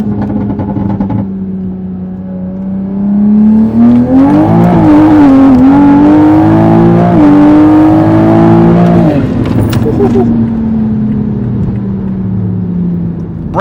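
A 700+ hp single turbo MKV Toyota Supra that is leaking and burning oil runs loud and close, its engine holding a deep droning rumble that climbs and wavers as it revs in the middle, then settles.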